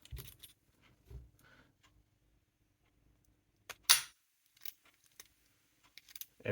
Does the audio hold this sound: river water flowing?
no